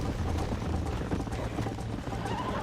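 Rapid clip-clop of galloping horse hooves in Red Dead Redemption, steady and fairly loud throughout, with a low rumble underneath and a brief whinny-like tone near the end.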